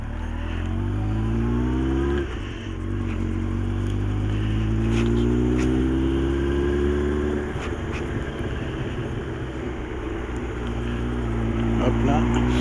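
A motorcycle engine runs and shifts through rising tones as the rider sets off on a road ride, loud and close with continuous wind rush, while someone talks over the engine.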